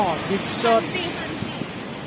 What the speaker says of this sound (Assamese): বিচৰ কাষত চেয়াৰত বহি বিন্দাছ এটা মজা বতাহ বলি আছে